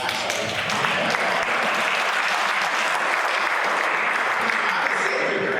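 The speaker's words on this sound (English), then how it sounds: "You can clap for UC." An audience claps for the University of Cincinnati at a Rotary meeting, a loud, dense round of applause from a room full of people sustained evenly for several seconds.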